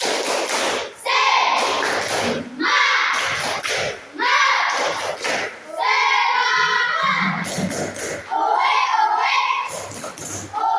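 Children in a classroom do a rhythmic spirit clap, bursts of claps and thumps in short patterned phrases with chanting voices between them, loud and close.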